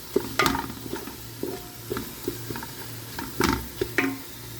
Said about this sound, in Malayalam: ഇപ്പോൾ മസാലപ്പൊടികളൊക്കെ ഞാൻ ഇതിലേക്ക് ആഡ് ചെയ്ത് ഇനി നമുക്ക് മസാല ഒന്ന് നല്ലോണം ഒന്ന് ഫ്രൈ ആക്കണം.